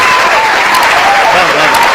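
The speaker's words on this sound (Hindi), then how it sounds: "कमजोर तालीमें सुनने ऐसे काम नहीं चलेगा।" Crowd at a Hindi-Urdu poetry recital clapping, loud and close, with a continuous wash of applause and voices mixed in.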